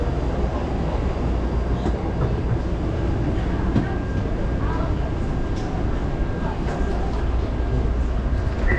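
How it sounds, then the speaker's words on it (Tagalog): A Taipei metro train rolls into a station with a steady rumble and faint clatter, a continuous mechanical roar close by, with people talking over it on the platform. "paparating na yung train"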